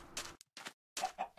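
Chickens in the Minecraft Polycraft video game clucking in three short, quiet bursts separated by near-silence, no talking.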